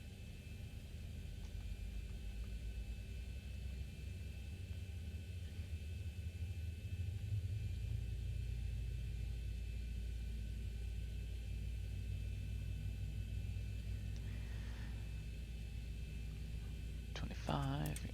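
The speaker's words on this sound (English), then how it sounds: "Let's get a second engine started." Second jet engine of a simulated Boeing 737-800 (ZiboMod) starting, a steady low rumble that swells gradually under a faint high whine, with brief clicks near the end.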